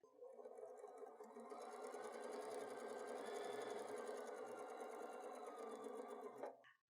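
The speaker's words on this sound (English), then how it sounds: "I'm going to sew across the top, I'm going to sew across the bottom" A sewing machine stitches across a pocket on a quilted wall hanging, a steady, rapid mechanical whir held for several seconds and then stopping abruptly, close by with no talking.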